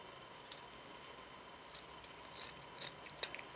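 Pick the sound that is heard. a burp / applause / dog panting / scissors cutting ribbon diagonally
scissors cutting ribbon diagonally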